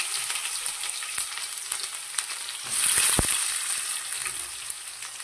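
Onions frying in hot oil for an okra curry make a close, steady sizzle that swells briefly with a louder burst of frying and a stir.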